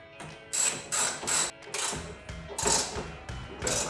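A ratchet snugs down a bolt on a Camaro Lambo door conversion kit, making bursts of rapid clicking in a stop-start rhythm with brief pauses, close up and moderately loud.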